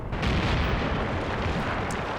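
Distant rumbling gunfire and explosive booms roll through a battle in the Graviteam Tactics: Mius war game, a dense continuous low thunder with occasional sharper bursts.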